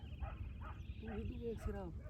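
Several dogs bark and yip in short, rising bursts during a jackal hunt in open country, with people talking loudly over them throughout.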